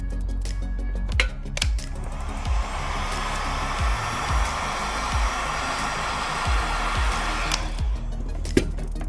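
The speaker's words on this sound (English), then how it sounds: "then I'm gonna blow a little bit of heat" A heat gun blows a steady rush of hot air during a Samsung Note 20 Ultra screen replacement, close and continuous, with scattered small clicks and taps over the airflow.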